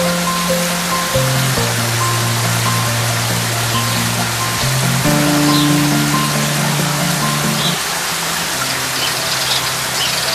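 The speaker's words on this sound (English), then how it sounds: "I've turned the waterfall back on to make sure there are no leaks in my pipe." Steady rushing of water from a garden pond waterfall, switched back on to check a pipe for leaks, running as a continuous splash and gurgle with a low hum underneath.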